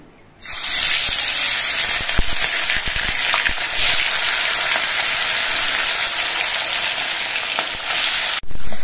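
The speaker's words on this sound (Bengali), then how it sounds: "এবার কয়েকটা করে মাছ একসঙ্গে দিয়ে আমি ভেজে নিচ্ছি।" Pieces of bata fish slide into hot mustard oil in a wok and erupt into a loud, sustained sizzle that holds steady for several seconds with faint pops, then cuts out briefly near the end before resuming.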